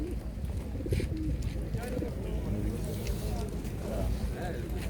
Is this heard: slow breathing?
no